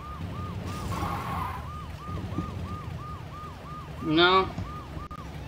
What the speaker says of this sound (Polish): Policja wyje.